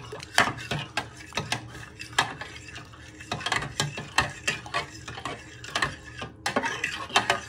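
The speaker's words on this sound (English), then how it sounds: "you want to give these a good stir so they evaporate" A spoon clinks and scrapes repeatedly against a measuring jug while beef stock cubes are stirred into hot water, the quick, uneven taps running steadily throughout.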